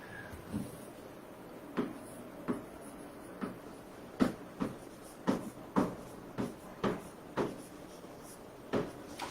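Chalk or marker taps and strokes on a board recur in an irregular rhythm, a dozen or so sharp close knocks over a quiet room hum.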